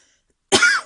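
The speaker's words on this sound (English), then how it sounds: "Of course I would cough." A single short, forceful cough close to the mic after a moment of silence.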